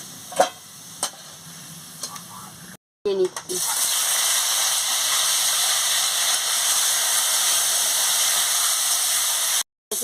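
Potatoes frying in hot oil in a pan, a loud steady sizzle after a few clinks of a utensil, continuing nearly unbroken apart from a short gap near the end.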